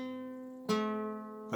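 Fingerpicked acoustic guitar notes: a sustained chord ringing out, then a second struck attack at about 0.7 seconds and a third near the end, close and moderately quiet with no talking.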